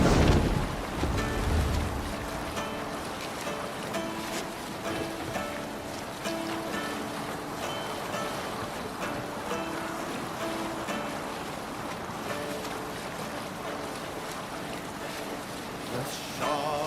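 A Viking sailing ship at sea in Assassin's Creed Valhalla: steady wash of waves and wind against the hull, creaking wood and rigging, with distant crew voices and music faintly woven underneath.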